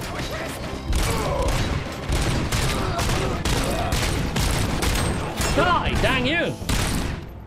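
Rapid, loud bursts of gunfire from the PS5 game RoboCop: Rogue City hammer away for several seconds. Brief gaps separate the bursts, metallic mechanical clanks come near the end, and a player shouts over the shooting.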